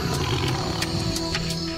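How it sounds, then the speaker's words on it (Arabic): A tiger gives a low, rumbling roar, loud and close, with rough pulsing bursts repeating across the short span and no voices over it. "القطط تصدر أصواتا وتزمجر وتهمس إذا تعرضت لموقف عدائي، لكن صوت الزئير هو ما يميز النمر والأسد."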